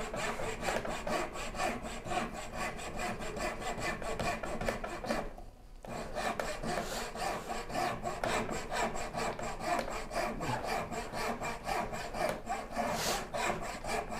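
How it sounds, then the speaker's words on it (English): Turning saw cutting by hand through wood for a Shaker Enfield cabinet, with fast, even back-and-forth rasping strokes close up, broken by one short pause partway through. "This is why I actually really like the turning saw."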